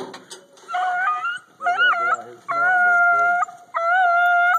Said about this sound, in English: So when they stop barking, when are they going to start barking?